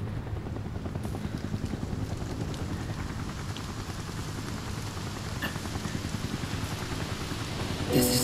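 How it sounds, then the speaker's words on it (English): Continuous rain patter in Midgard in the video game Final Fantasy VII Rebirth, over a low rumbling drone, steady throughout, with a brief louder burst at the very end. "Is that rain in Midgard?"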